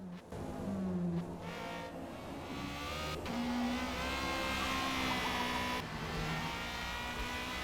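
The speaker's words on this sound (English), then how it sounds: "this Ferrari does sound just as epic, if not obviously more epic, with full power and 2 turbos on it" A Ferrari 355 with twin turbos and full power races in Forza, its engine roaring close and steady with pitch shifting through gear changes and brief dips, and no talk over it.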